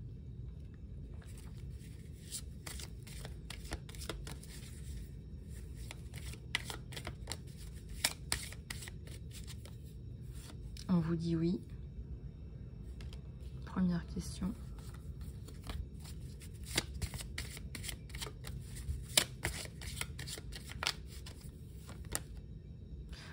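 A deck of angel oracle cards shuffled by hand gives a steady, close rustling and flicking that runs throughout, under a voice speaking softly at times.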